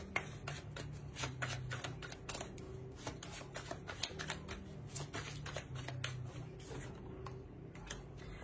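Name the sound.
shuffling tarot cards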